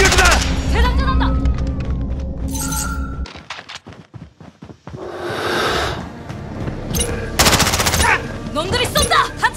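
Enemy gunfire in the video game Call of Duty: Modern Warfare, with loud rapid machine-gun bursts and sharp shots, a brief quieter gap, then more heavy firing while a voice calls out over the action.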